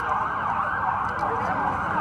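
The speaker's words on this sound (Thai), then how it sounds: "มีเสียงรถหวอด้วยนะครับ" An emergency vehicle siren wails steadily and loudly at an outdoor gathering at the Pathumwan intersection in Bangkok, filling the whole moment with a continuous undulating tone.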